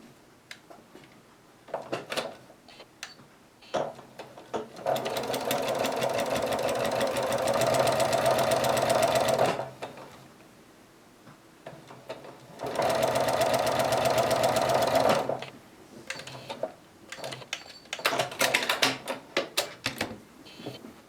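Sewing machine stitching two quilt pieces along a drawn 45-degree line, two sustained runs of fast, even needle chatter with quieter handling clicks between and around them.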